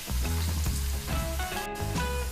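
Steady sizzling of onions frying in hot oil, close up, with a low bubbling hum underneath and no talking.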